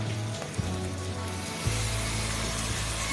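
Duck meat sizzling in a hot pan after salt is added, a steady dense frying hiss that grows fuller partway through as more meat goes in, close and continuous with no talking.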